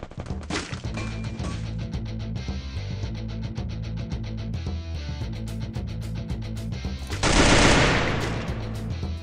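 MP40 submachine gun fire in a shooting video game: a fast, steady rattle of shots for several seconds, then a louder burst of noise near the end.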